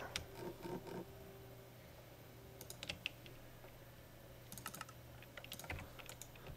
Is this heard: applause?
no